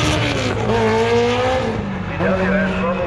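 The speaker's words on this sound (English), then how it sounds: "Carl Young coming out of Cambridge with that VW Golf." A VW Golf race car at a track day accelerates out of a corner, its engine note rising and shifting through gears, loud and close, with a commentator speaking over it.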